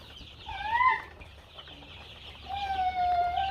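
Sonali chickens on a poultry farm give a few short, close clucks and rising calls in two bursts, with quiet barn ambience between them and no talk.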